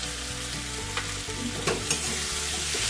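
Fried chicken sizzles in a pan with cumin powder while a spoon stirs it, scraping and clinking against the metal in short strokes over a constant loud frying hiss.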